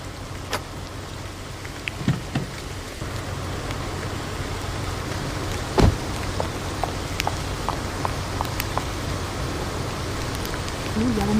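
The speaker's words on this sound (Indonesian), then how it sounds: "Turun hujan." Steady rain falls outside a house doorway, a continuous hiss with scattered drops and a few knocks, close and fairly loud with no voices.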